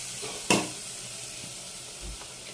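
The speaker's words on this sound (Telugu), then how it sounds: "ఆనియన్స్ ఫ్రై అయిపోయినాయి. నెక్స్ట్ పచ్చిమిర్చి వేసి" Green chillies added to frying onions in a clay pot for mutton gravy curry, giving a soft, steady sizzle with one sharp clatter near the start and faint stirring scrapes.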